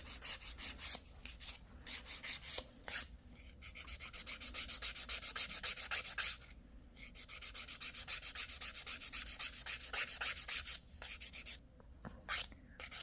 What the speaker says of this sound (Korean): 쉐입 잡으면서 능선 부분, 잘 안 된 부분도 같이 한번 갈아 볼게요